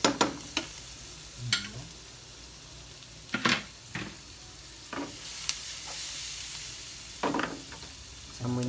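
Onion and garlic are added to a hot pan, producing a low sizzle with intermittent clattering stirs and knocks, close and fairly quiet.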